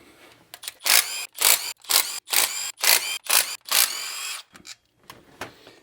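An impact wrench spins out oil pan bolts on a shop truck in a series of about seven sharp, loud rattling bursts separated by short pauses, close to the listener.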